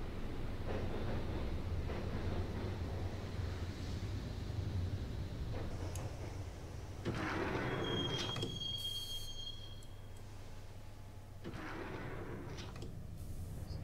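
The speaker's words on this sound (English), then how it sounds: "the train doors had already shut behind me, and I was in for the ride" Subway train ride in the Max Payne video game, with a steady rolling rumble, wheel squeals and brief hissing surges, one high metallic screech midway, and no voices.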